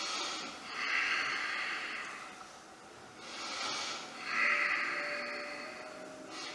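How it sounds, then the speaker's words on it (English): Slow, deep breaths drawn in and let out during a held yoga pose that engages the inner-thigh adductor muscles, three long airy inhale-exhale swells, close and fairly soft, without talk. "I just hold here and take some deep breaths"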